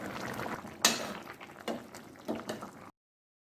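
A pot lid lifts with a metallic clink, then a spoon scrapes and stirs through bubbling potato chicken curry in several soft, wet strokes before the sound cuts off.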